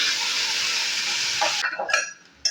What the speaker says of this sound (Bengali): এই যে গাজরের পেস্টটা কড়াইয়ের মধ্যে আমি ঢেলে দেবো